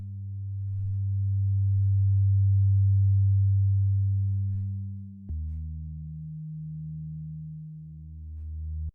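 A deep, smooth sub bass synthesizer tone for ambient music swells and holds, then drops abruptly to a lower sustained note with a slow pulsing wobble.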